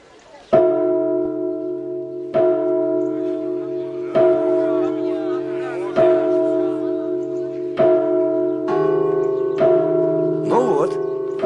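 A church bell struck about six times at steady intervals, each loud clang ringing on into a long sustained hum, close and dominant with a hint of another tone near the end.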